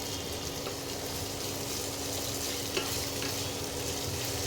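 Onions with a little sugar frying in a pan for chicken chakuri, a steady close-up sizzle with occasional stirring scrapes throughout.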